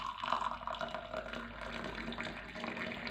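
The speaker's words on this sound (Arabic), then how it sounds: "تاني حاجة بجيب مية مغلية بحطها جوه المج" Boiling water pours steadily into a mug, a soft continuous splashing and trickling stream at low level, with no voices.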